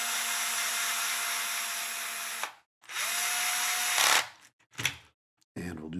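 A cordless power drill drives a screw during a FastEddy Bearings DR10 build, whirring steadily in two long runs broken by brief pauses and short bursts, with a voice speaking at the end.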